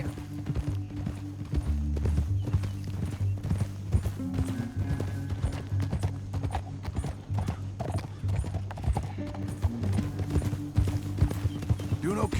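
Horse hooves clip-clop steadily at close range through a canyon ride in Red Dead Redemption 2, with occasional whinnies, over a low sustained musical drone.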